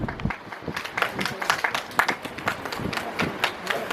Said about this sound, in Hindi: जोरदार तालियां सबके लिए आपका तरफ से।